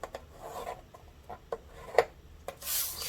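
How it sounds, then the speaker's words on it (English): Quiet, close rubbing and scraping as a paper card is scored with a tool for a note card holder. Several short strokes come in uneven succession, ending in a brief brighter swish. "So on 3 sides, you're going to score at 1/4 inch and 1 inch."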